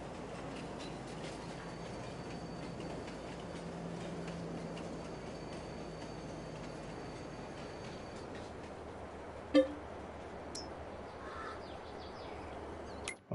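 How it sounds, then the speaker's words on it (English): A train rolls on rails in Farming Simulator 22: a steady, low rumbling drone continues for the whole stretch with faint tonal whines above it and a couple of brief clicks near the end, with no talking. "I'm not sure why I'm trying to steer the train. It is on the rails, so you can't steer it."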